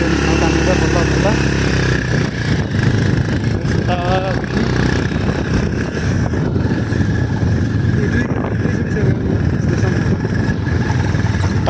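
A motorcycle engine labours in the cold on a rough off-road mountain track near Manang, a close, continuous drone that rises and falls slightly as voices talk over it.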